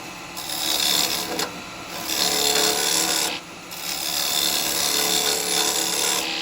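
A wooden bowl spins on a lathe while a GT SCH 4 carbide chisel hollows and undercuts it, giving a loud continuous scraping, rasping whir that briefly eases between passes, close up.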